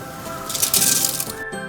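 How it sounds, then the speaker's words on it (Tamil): Dry rice grains poured into a pot of salted water at a rolling boil, giving a short bright hissing, rattling rush over a steady bubbling simmer, close by and moderately loud. "இப்போ நம்ம அரிசி போட்டுக்கலாம்."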